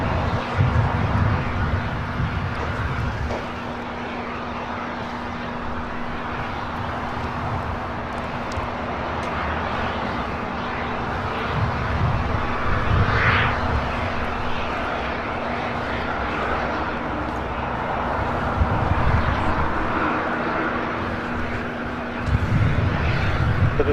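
A Boeing Dreamliner airliner taxiing at LAX, turning onto a taxiway, gives a steady loud jet engine roar with a low hum that swells and eases, continuous throughout without clear talk.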